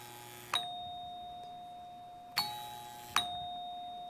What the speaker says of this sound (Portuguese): quando eu aciono a campainha